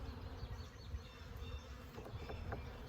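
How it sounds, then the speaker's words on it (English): Bees flying around a hive outdoors in early March, a soft steady buzzing with individual insects passing close and fading away, faint and unaccompanied by talk. "these bees aren't coming up to get me, they're just flying away"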